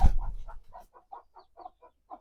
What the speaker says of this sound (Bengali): এখানে সাত আটটা বাচ্চা হয়েছে মুরগির আর এখানে আরেকটা মুরগি